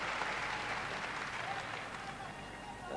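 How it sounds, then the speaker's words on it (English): A large English crowd applauds the 1984 All England men's doubles badminton champions, Kartono and Rudy Heryanto, in a steady, dense wash of clapping that holds for the whole stretch. "the English crowd giving them the applause they deserve"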